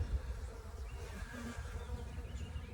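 Honey bees buzz steadily around a hive outdoors in spring, a continuous low droning hum with no talking.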